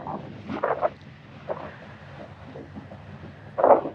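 Gusty wind buffets the microphone in rough bursts at the Mesquite Sand Dunes, with a strong blast near the start and another near the end.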